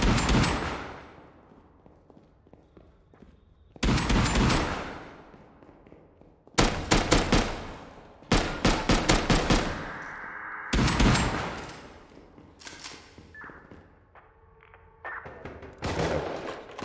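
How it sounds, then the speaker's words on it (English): Bursts of rapid gunfire in the game Rust crackle in loud volleys separated by short quieter gaps, some shots sharp and close, others echoing farther off. "Don't like hearing all that gunfire behind me."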